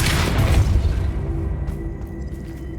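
A Depulso spell striking its target in the video game Hogwarts Legacy: one loud booming impact at the start that fades into a low rumbling tail.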